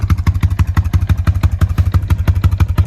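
A cold Suzuki Quadsport LTZ-250 quad engine idling up close, a loud steady rapid thumping putter with a clattery even rhythm throughout.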